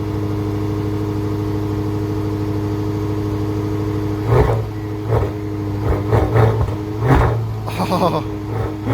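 A 2019 Maserati Levante GTS AWD with a 3.8-litre twin-turbo V8 idles with a steady deep drone, then several loud sharp revs burst in succession, with voices talking in the background.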